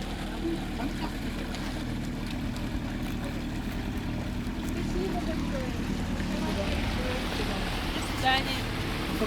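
A motorboat drones steadily on a river in Yakutia, the engine a low continuous rumble mixed with water and wind noise, and a voice speaking faintly now and then.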